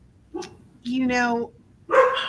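A household dog gives three short, close barks in quick succession, the middle one longer, with no talking over them.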